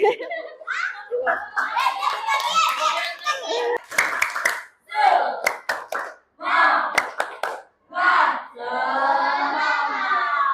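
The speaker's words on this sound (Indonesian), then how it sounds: "Kasih tepuk tangan untuk Kevin." Children in a classroom clap for a classmate in short, scattered bursts, mixed with children's voices and shouting, with brief pauses between outbursts.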